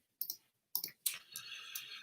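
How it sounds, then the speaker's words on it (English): A few sharp clicks on a computer keyboard, then a longer run of key taps. The sounds are faint and close, with silent gaps between them and no talking. "I'm so good at typing."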